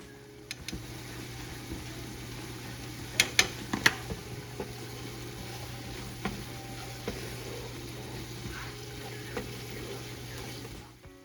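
Spice paste with ginger paste, turmeric and chili powder frying in a pan, a continuous moderate sizzle broken by a few quick clicks and scrapes of stirring, no talk heard.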